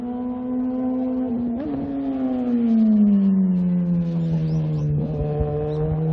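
A Subaru WRX STI VAB with a full titanium exhaust revving nearby, its loud tonal engine note rising, falling and sliding slowly down in pitch, with a couple of sharp blips along the way.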